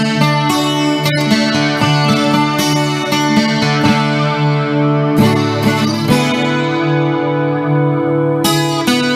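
A 12-string guitar with a HyVibe system plays strummed chords through a shimmering chorus effect, each bright strum ringing out and overlapping the last in a steady, close sequence.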